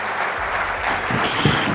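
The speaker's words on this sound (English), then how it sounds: "Let's give Lex a big round of applause" Brief applause for keynote speaker Lex at an automotive leadership conference, a short burst of crowd clapping mixed with some murmuring or voice-like sound.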